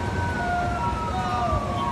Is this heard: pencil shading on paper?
no